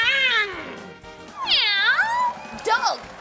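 A person imitates a cat, giving three drawn-out, rising and falling vocal meows in quick succession, close and clear.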